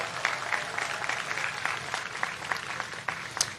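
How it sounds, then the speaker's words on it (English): Applause from a graduation commencement audience at a community college, steady and dense clapping filling the whole stretch without talk. "give your president a big round of applause for President Johnson?"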